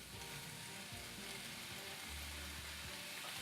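Shallots, garlic and turkey fry in olive oil in a pan, giving a steady, close sizzle that runs throughout with faint stirring scrapes and no voices.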